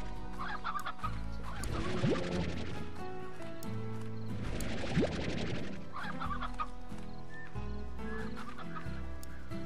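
Chickens in the video game Slime Rancher cluck softly in short bursts over a quiet background of game music and sound effects.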